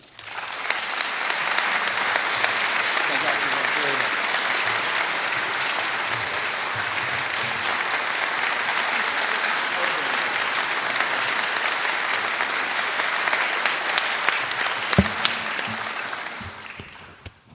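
Sustained, dense applause from an alumni audience honoring an award recipient at a college alumni weekend ceremony, loud and steady throughout, with a few sharper claps near the end before it tapers off.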